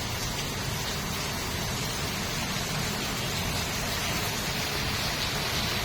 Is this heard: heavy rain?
yes